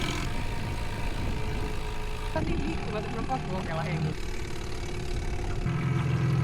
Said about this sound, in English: So the outboard's been working for so long at least.